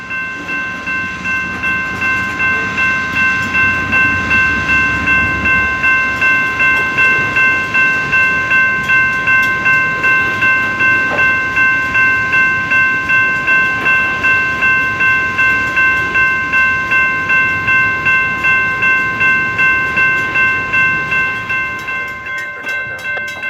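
A CSX maintenance-of-way ballast dumping train rolls past with a loud, continuous rumble and steady rhythmic clicking of wheels over rail joints, plus sustained high metallic squealing tones, close by and without talk.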